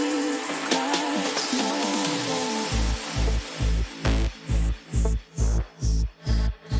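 Drum roll, rising riser and crash effects layered in FL Studio for a techno track: a dense, swelling noisy build with a sweeping tone that drops into a steady pulsing rhythmic pattern of repeated hits, loud and clear, no voices.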